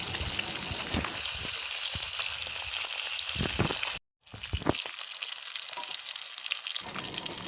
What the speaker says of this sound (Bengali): কথা বলতে বলতে এদিকে আমার মাছগুলো ভাজা হয়ে গেছে